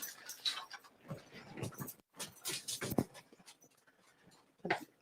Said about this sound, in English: dog's in trouble, I think.